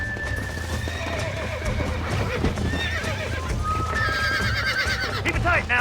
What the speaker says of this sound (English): How are you going to break a wild horse if you can't ride?